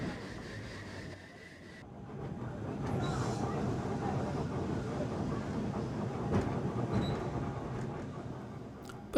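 A historic tram runs on the tram lines at Crich Tramway Village, a steady rolling rumble with faint wheel rattle, heard at a moderate distance and holding throughout.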